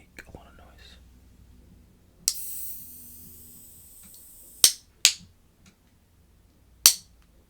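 A can of sparkling water cracks open with a sharp click and a fizzing hiss, followed by a few more sharp clicks, close and quiet, amid soft whispering.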